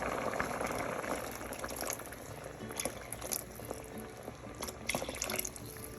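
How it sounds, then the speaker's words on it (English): Water is added to a simmering pot of Cambodian chicken rice porridge, giving a soft, continuous liquid bubbling and splashing with a few brighter drips, fairly quiet and close. "I'm gonna add a little bit more water to it."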